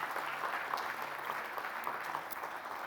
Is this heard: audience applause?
yes